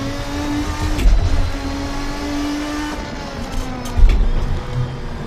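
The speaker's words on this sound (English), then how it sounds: "And just a wonderful sounding engine." A roughly 600-horsepower GT race car in the Assetto Corsa racing game drones loudly at steady high revs, with the pitch dipping and rising through gear changes and throttle lifts. The engine plays alone with no talking.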